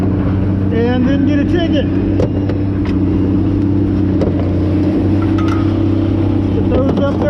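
At a scrap yard, a vehicle's engine rumbles steadily close by as it pulls off, with a brief spoken remark over the drone.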